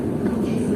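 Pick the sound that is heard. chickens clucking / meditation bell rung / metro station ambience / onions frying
metro station ambience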